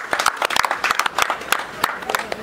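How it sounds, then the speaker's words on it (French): Audience at an award ceremony honouring a dignitary applauding in a round of uneven, individually distinct claps, fairly close and lively for a couple of seconds. "Sous vos acclamations"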